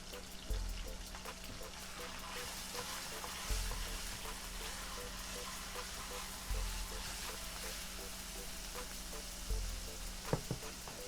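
Garlic and ginger paste fries in a pan for an Indian chicken tikka dhansak, a steady low sizzle with periodic soft thumps and scrapes of stirring, quiet and alone.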